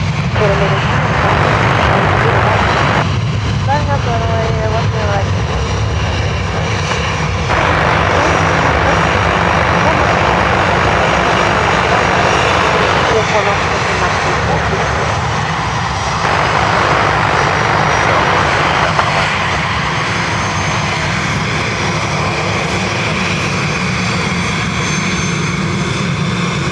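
A KLM airliner takes off from Dublin Airport, its engines a loud, sustained roar and broadband rumble that holds steady across the whole stretch, with a few faint voices in the background.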